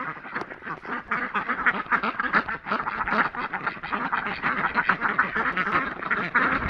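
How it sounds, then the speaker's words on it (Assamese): A flock of ducks quacks continuously at close range on a farm where they lay eggs, a dense, loud, overlapping chorus of raspy calls with no pauses. "হাঁহ"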